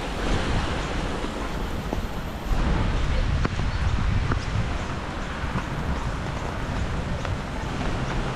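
Floodwater from an overflowing gully rushes through Bendigo, Victoria, Australia during a flood, a steady broadband roar of turbulent water that is loud and continuous throughout, with a few faint ticks and splashes over the top.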